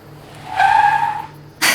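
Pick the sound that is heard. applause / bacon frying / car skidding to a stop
car skidding to a stop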